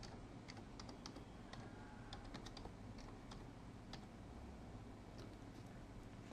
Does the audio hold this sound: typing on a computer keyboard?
yes